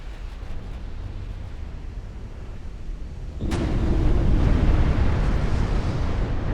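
Naval battle in Ultimate Admiral Dreadnoughts as a battleship takes shell hits and sinks: a steady rumbling wash, then a sudden loud impact near the midpoint swelling into a heavier, sustained roar of explosion and churning water.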